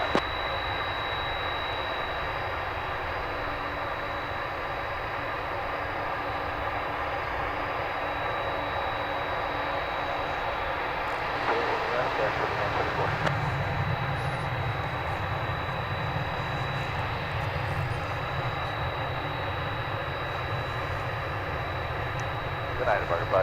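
An airliner taking off at DFW International Airport, a steady broad engine roar heard from a distance that swells a little partway through, with a thin constant whine above it and no talking.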